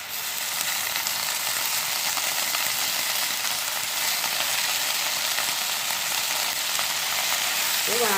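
Boiling rice water bubbles with a steady, dense hiss at close range as chilli leaves are added for a chilli leaf stir-fry, staying even throughout with no talk.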